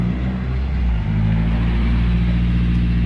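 A Nissan S14 car engine runs steadily at idle with a deep, continuous low rumble that stays loud and even throughout, with no voices.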